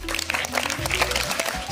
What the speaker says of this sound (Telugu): ఉపాధ్యాయులందరికీ కూడా మరొక్కసారి గట్టిగా క్లాప్స్